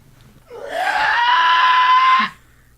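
A sustained, shrill screech lasting nearly two seconds, loud and close with a rising start, voiced by a person imitating a pterodactyl.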